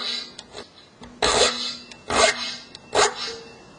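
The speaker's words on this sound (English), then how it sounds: "Which takes some serious filing." A hand file rasping across metal to take out a nick, heard as three strong, close scraping strokes in a slow rhythm, with lighter scrapes and faint background noise between them.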